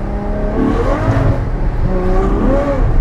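A car, the 800, revs up on a slippery surface, its engine note climbing and dropping in repeated strained surges while it fails to gain speed, loud and close with a steady low rumble underneath.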